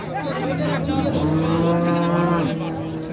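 Cows and Friesian cattle at a Tangail cattle market moo loudly and close by in one long, drawn-out call, with a faint murmur of people in the background.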